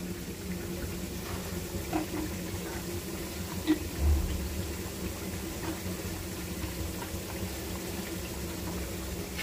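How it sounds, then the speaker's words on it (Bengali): Spice paste sautéing in oil in a pan, a steady close sizzle and bubbling hiss throughout with one brief clack, under faint background talk. "দেখুন আমার মশলাটা মাশাআল্লাহ সুন্দর কষানো হতেছে, কষাতে থাক"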